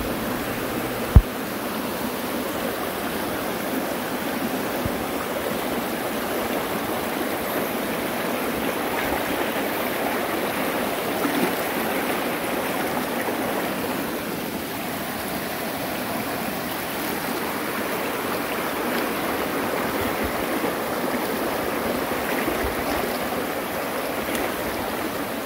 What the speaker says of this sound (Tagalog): at umpisa na nating tawirin itong sapa